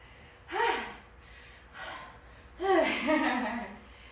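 Heavy breathing from someone in the middle of a one-weight workout circuit, three loud, close, gasping breaths with short pauses between them, the last one drawn out.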